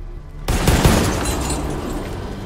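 A sharp burst of gunfire erupts from silence in a Far Cry 5 zombies mode match, loud and close, its crack trailing off into a lingering ringing decay.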